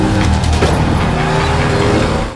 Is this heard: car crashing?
yes